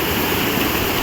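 Icy water rushes at the Yamuna's source in Yamunotri, Uttarakhand, a loud, broad, unbroken roar of flowing stream close by, with no voices.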